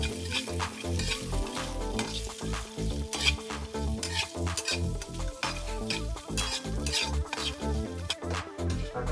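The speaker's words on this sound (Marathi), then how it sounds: "आता कांदा परतून झाल्यावर आपण खडा मसाला आहे तो जरा परतून घेऊया तेलात" Whole spices and cashews sautéing in hot oil for dhaba-style butter chicken, with a steady loud sizzle and rhythmic close scraping of a spoon stirring the pan, no talk.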